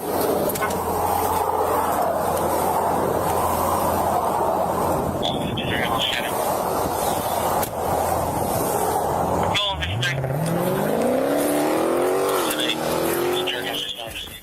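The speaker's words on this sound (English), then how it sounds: "Tires screeching, engine roaring" A car tears away from a roadside traffic stop as a deputy steps out of his patrol car, its engine roaring loudly and climbing steadily in pitch. A narrator talks over the steady, close road noise throughout.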